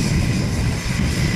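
A small tractor engine runs loud and close out on a farm field, a dense steady rumble with a rough churning low end and no talk over it.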